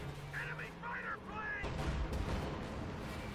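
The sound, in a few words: artillery bombardment in the video game Company of Heroes 2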